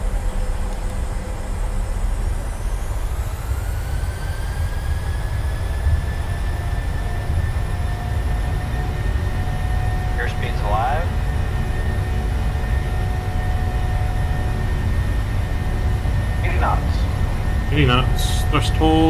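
Airliner jet engines spooling to takeoff thrust in Microsoft Flight Simulator, a loud continuous roar with rising whine tones, steady throughout, with a voice speaking over it.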